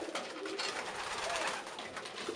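Young pigeon chicks being fed by their parents give a busy, continuous rustle and squeak, with soft cooing and fluttering close by.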